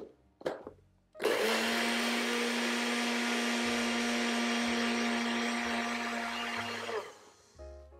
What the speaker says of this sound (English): So it only takes about 10 to 15 seconds in your blender.